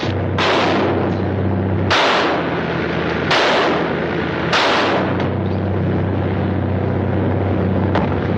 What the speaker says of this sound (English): Didn't I tell you not to shoot, gentlemen?